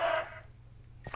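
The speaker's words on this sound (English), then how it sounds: "Oh. It's another chicken." A chicken in Minecraft on PlayStation 4 gives a short burst of clucking at the start, followed by near silence and a faint second cluck at the end.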